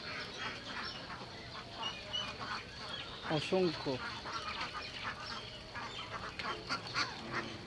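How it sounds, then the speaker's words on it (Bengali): Native ducks in a cage at a mini zoo in Savar, Dhaka, give a busy chorus of nasal quacks, close and steady, while someone talks over them. "দেশি হাঁসের খাঁচা"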